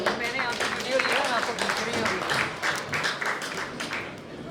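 Audience applause at an Urdu poetry mushaira in Toronto as a poet is welcomed, a few seconds of scattered clapping mixed with voices.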